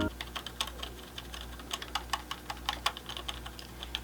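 Keys clacking in quick, uneven bursts of typing on a budget gaming keyboard, fairly quiet and close, with a low steady hum underneath.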